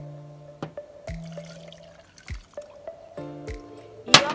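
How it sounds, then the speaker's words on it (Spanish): Water poured into a grape and blueberry smoothie mix with a spoonful of coconut oil, heard as close, scattered drips and hollow plops at irregular intervals, ending in a brief louder splash. "vamos a ponerle agua"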